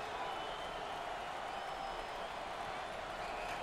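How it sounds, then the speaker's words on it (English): Basketball arena crowd at a 2020 NCAA tournament first-round game between North Texas and Wisconsin, a steady roar of cheering and applause filling the space, loud and continuous, with a commentator's voice over it. "how about this crowd? They're enjoying this close matchup"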